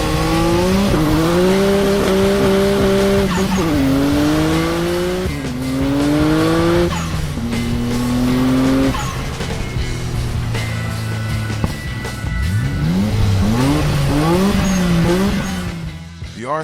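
A restored Nissan Skyline R32 GT-R revs and shifts repeatedly, its engine note climbing and dropping through gears, with squealing tires toward the end, loud and close throughout.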